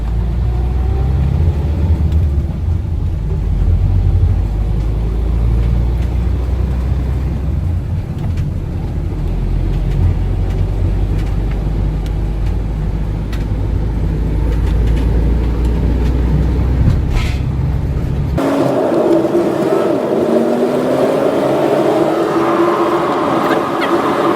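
A camper van leaves the motorway at Chesterfield with a steady, loud low engine and road rumble from inside the cab, which cuts off abruptly near the end into a quieter, different background.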